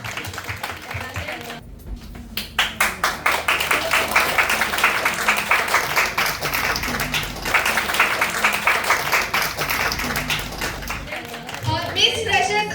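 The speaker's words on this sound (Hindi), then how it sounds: "जोरदार तालियों से उनका स्वागत करिए." Audience applause at a college freshers party in Andaman, with sustained, dense clapping that begins after a brief quiet and carries on loudly to the end, with some voices mixed in.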